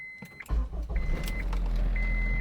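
A 2004 Acura RSX Type S engine cranks and catches on its first start with new Hasport motor mounts, a sudden low rumble settling into a steady close idle.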